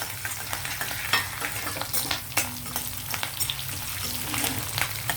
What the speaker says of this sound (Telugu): ఇవి కొంచెం వేగనిద్దామండి ఇంకా కలర్ రావాలి మనకి ఈ లోపల ఎండుమిర్చి వేద్దాం